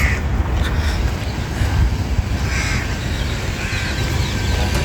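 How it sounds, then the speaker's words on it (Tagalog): Crows cawing overhead along a busy seaside corniche, their calls scattered over a steady outdoor rumble of traffic and crowd noise. "Mga uwak din doon sa taas."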